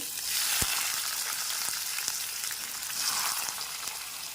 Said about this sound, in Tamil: தக்காளியை போட்டுடலாம் ஜாக்கிரதையாக போடுங்க எண்ணெயில் போடும்போது